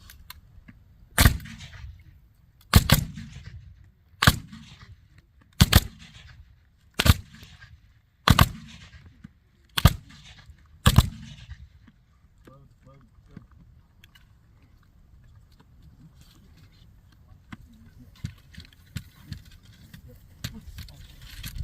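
Civil War era rifles fire at a living history demonstration: seven sharp, loud reports at roughly even intervals, each a volley with a short echoing tail, followed by quieter shuffling and a few faint distant pops.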